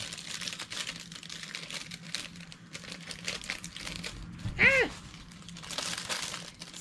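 Soft paper crinkling and rustling close by, in quiet intermittent bursts with one brief sharper crackle partway through.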